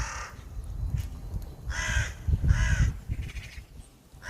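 Several crows caw loudly nearby in repeated harsh bursts, some overlapping, with brief pauses between calls.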